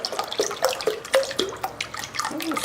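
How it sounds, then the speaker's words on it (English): Chicken broth pours and splashes into a crock pot of ground turkey chili in uneven glugs and spatters, close by and moderately loud, with a gurgling liquid rhythm through the short stretch. "Add some more chicken broth."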